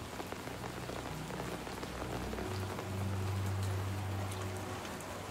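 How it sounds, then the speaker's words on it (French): Steady rain patters densely on an umbrella, a constant close hiss of drops. A low droning hum runs underneath. "J'aime le petit bruit de la pluie sur le parapluie"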